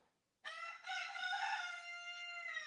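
A rooster crows once in the morning, a single long, loud, close call that begins suddenly and holds its drawn-out tone against a quiet background.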